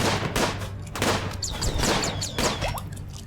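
Magic missile attacks in RimWorld, a combat game, land as a rapid string of sharp whooshing bursts with bright chirping zaps over a steady low hum, repeating about every half second at close range.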